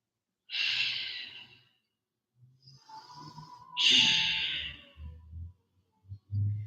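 Deep, slow breathing during a yoga flow: two long airy inhale-exhale cycles close to the microphone, separated by quiet pauses, with soft low thuds of movement near the end.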